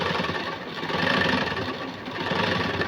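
A sewing machine runs a straight seam on a puff sleeve, a continuous close mechanical whir that swells and dips slightly, with no talking.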